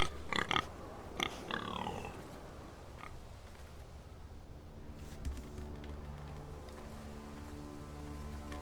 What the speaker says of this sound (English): Oh look, a pig.